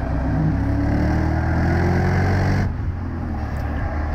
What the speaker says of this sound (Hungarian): És az itt, amikor közel van, akkor azért a V az hallatszik